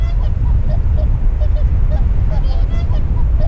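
Wild geese honk repeatedly over a steady low rumble of wind in the autumn Pamir highlands, their calls moderately distant and overlapping in an irregular chorus.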